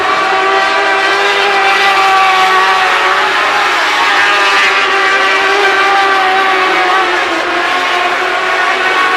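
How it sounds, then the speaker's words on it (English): Race cars battle on a dirt oval at Volusia, their engines roaring loud and continuous with harmonic whine rising and falling as the pack runs through the turns. "As Hogan's struggling a bit, that car doesn't want to turn up there in 3 and 4"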